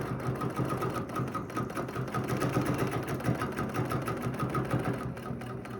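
A sewing machine stitching straight down fabric at a quarter-inch seam while making a quick design: a steady, close mechanical whirring and rapid needle chatter running continuously without pause.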